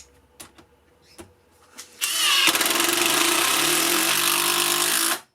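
Makita 12V impact driver sinking a longer screw: a few sparse clicks and taps, then a loud, continuous, close buzzing hammer rattle for about three seconds that stops abruptly.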